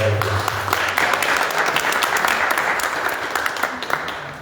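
A youth and adolescent church service congregation breaks into loud, dense applause, many hands clapping steadily throughout before gradually easing, with crowd voices faintly mixed in underneath.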